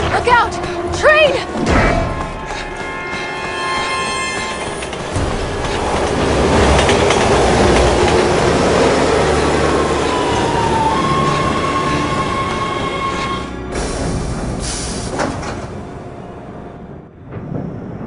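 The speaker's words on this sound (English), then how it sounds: "Look out! Train!" A train rumbles past in the Resident Evil 6 video game, rising to a loud clattering roar with wheel squeal before fading away, while someone talks over it.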